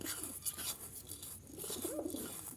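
Jalali pigeons coo from a home loft, soft, low warbling calls rising and falling close by, repeating over steady background rustle and faint scratching.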